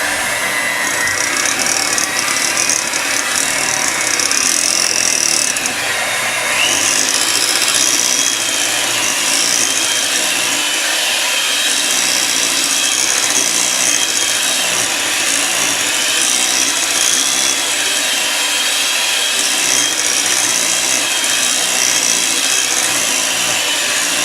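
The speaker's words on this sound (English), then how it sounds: "I'm gonna go ahead and mix this together." Sour cream and lemon juice mixed together for a caramel cheesecake batter, a steady scraping, rubbing stir that keeps going close up without pause and with no talking.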